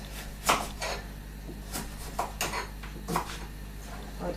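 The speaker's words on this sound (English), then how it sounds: "I just tend to take off the edges with the knife" A kitchen knife trims the edges off a vegetable for a roast beef dinner, giving a handful of separate sharp cuts and knocks on a chopping board with brief pauses between them.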